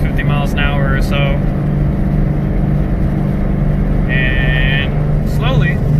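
A car with a Cobra Jet intake manifold cruises at about 45 to 50 mph, giving a steady drone of engine and road noise from inside the cabin while someone talks over it.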